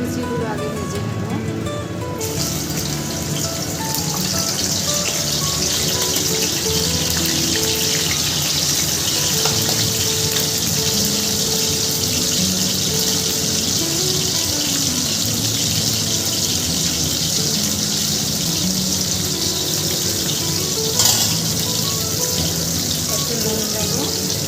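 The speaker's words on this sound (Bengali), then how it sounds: "বিচিগুলো আগে ভেজে নেব।" Seeds frying in a pan in a home kitchen before vegetables with dried fish are added, a continuous close sizzle and crackle holding steady throughout, with someone speaking over it.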